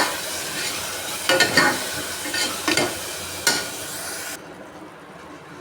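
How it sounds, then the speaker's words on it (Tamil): Onion and tomato sautéing in oil in a pan, a continuous bright sizzle with several scraping stirs of a utensil against the pan, then the sizzle drops away abruptly. "இந்த தக்காளி பழத்தையும் போட்டு எண்ணெயில் நல்லா வதக்கிட்டு இருக்கோம்"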